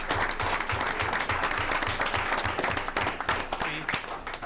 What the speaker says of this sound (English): she gets all that applause